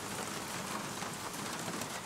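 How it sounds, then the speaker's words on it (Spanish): Steady rain falls continuously on a surface, a dense even hiss with no voices and no clear individual drops standing out. "Dicen que la lluvia arrulla"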